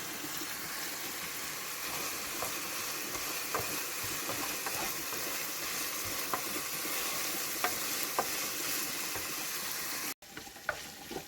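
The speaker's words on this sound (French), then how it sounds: "Une fois que j'ai fini de faire revenir la viande hachée" Minced meat with parsley and garlic frying and being stirred in a pan, a steady close sizzle with scattered soft clicks of the spoon, then a brief break near the end before the sizzle resumes quieter.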